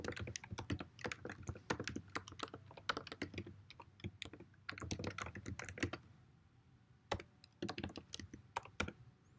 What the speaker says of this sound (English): So I'm just going to click here and then start typing my contact information.